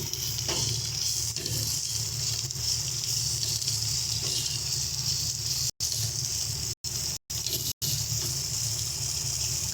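Red bell pepper sizzling in a pan of masala for a vegetarian paneer dish, a steady frying hiss with soft stirring scrapes throughout, briefly cutting out a few times near the end.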